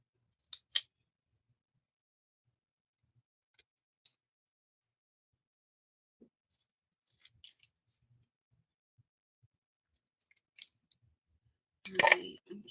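Small scissors snip paper cutouts for a Halloween toilet paper roll craft, trimming little corners: scattered, quiet, crisp snips in short bursts separated by near silence, ending with a louder rustle of handling.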